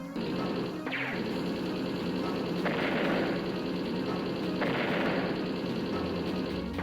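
Attack strikes in the game Advance Wars: Days of Ruin land as loud repeated crashing, gunfire-like bursts, with sharp hits at roughly two-second intervals over a dense continuous clatter.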